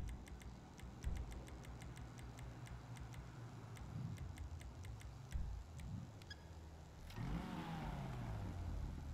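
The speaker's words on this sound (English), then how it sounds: "Let's start the engine and hear the exhaust sound." A Dinka RT3000 in GTA Online starts up, a low engine hum swelling into a rising rev near the end, accompanied by a steady series of sharp ticking clicks.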